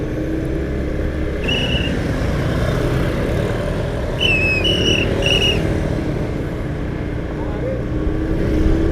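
A Honda Beat scooter rides at night on the road toward Ciputat, its engine and wind noise a steady close drone, with brief tones from passing traffic and a rider talking over it.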